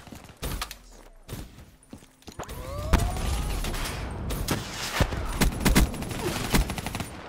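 Rapid high-caliber pistol shots in Call of Duty: Black Ops III, loud and close in quick irregular bursts, with a burst of heavier fire and game effects partway through.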